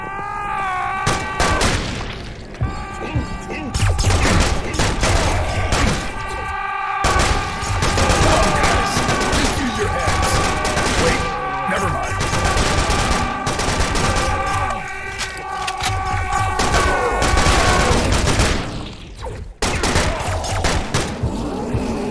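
Sustained AK rifle fire in Serious Sam Siberian Mayhem rattles on in long, dense bursts under a droning musical score, loud and close, with only brief pauses between volleys.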